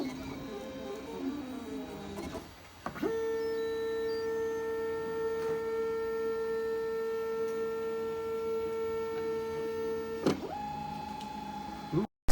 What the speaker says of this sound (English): this printer is mostly designed for PLA.